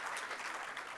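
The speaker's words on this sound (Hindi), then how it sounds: "ज़ोरदार तालियां" A crowd at a youth Hindi poetry competition claps for the young poets, a soft dense patter of applause heard from a distance for about a second.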